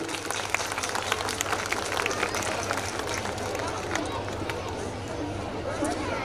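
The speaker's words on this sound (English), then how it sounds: "Let us clap and appreciate all the children." At a school annual function, an audience claps for the children, a faint, distant patter of hands mixed with murmuring voices and hall noise.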